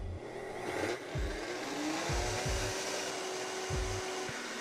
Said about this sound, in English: Put on the lid, we're gonna turn it on, crank it to high, and we're gonna let it run for 1 minute.